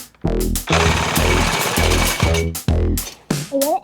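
A power tool cuts through a truck exhaust pipe during an exhaust repair on a diesel pickup, with loud rough rattling bursts separated by short pauses.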